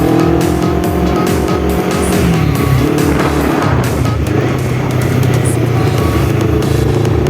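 A Honda CBR250RR motorcycle engine idles close by at a high, steady speed, with a constant throbbing hum and a few small rises in pitch.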